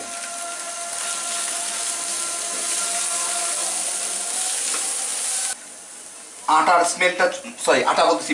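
Flour toasting with mushrooms in a pan for cream of mushroom soup, a steady broadband sizzle and stir that runs alone for several seconds, then drops and gives way to talking near the end.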